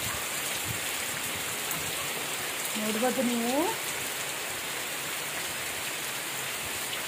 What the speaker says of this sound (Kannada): ಅಷ್ಟು ಮಳೆ ಬರ್ತಾ ಇದೆ, ಗಾಳಿ ಮಳೆ